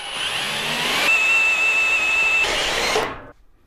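Power tool setting M12 riv nuts for mounting a vise on a workbench: a loud, steady whirring motor with a high whine that holds for about three seconds, then stops abruptly.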